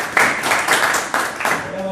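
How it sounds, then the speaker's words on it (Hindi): Clapping bursts from an open mic audience welcoming a performer, rising in uneven surges while a voice talks over the applause throughout. "जोरदार तालियों से स्वागत कीजिए प्लीज।"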